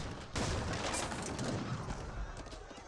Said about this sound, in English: More obelisk guns now being employed on the field.